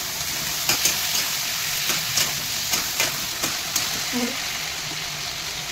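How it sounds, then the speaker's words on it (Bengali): Ridge gourd frying in a pan gives a continuous low sizzle with regular scraping taps from stirring about every half second, and a brief voice murmur near the end. "এবার ঝিঙেগুলো দিয়ে দেবো। ঝিঙেগুলো একটু ভেজে নিতে হবে।"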